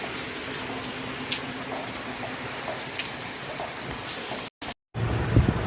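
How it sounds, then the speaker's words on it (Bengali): Steady rain pours down during Cyclone Remal in Kolkata, a dense continuous patter of drops on surfaces, close and fairly loud, with no voices and a few brief dropouts near the end. "বৃষ্টি পড়ছে আর সকাল থেকেই হচ্ছে"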